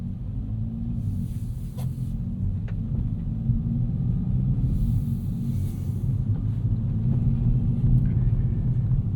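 A 2024 Kia Forte GT engine runs steadily, heard from inside the car as a constant, heavy low rumble with faint higher clicks and hiss above it.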